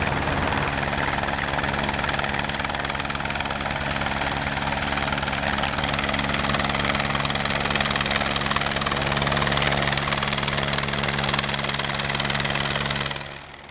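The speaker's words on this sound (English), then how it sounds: "we've got a helicopter. It's coming to move the air just to stir it up a bit" A helicopter hovers low over a vineyard at dawn for frost fighting, producing a loud, continuous rotor thump and engine roar that holds steady throughout before fading slightly at the end.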